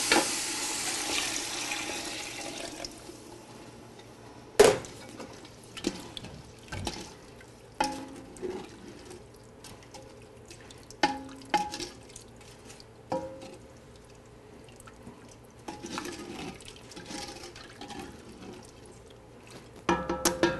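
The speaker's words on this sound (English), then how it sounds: "Just get that chicken stock in." Chicken stock being poured into a cooking pot in a kitchen, a brief splash followed by sporadic clinks, stirring and faint liquid sounds against a quiet background.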